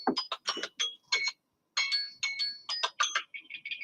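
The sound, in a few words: phone ringing with an incoming call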